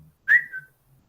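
A woman whistles with her mouth during a neuropsychology class demonstration: one short, clear, high whistle that slides slightly downward and fades, close and alone in near silence.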